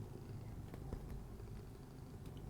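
A cat purrs close by indoors, a soft, steady, low rumble that stays quiet throughout with no other sounds over it.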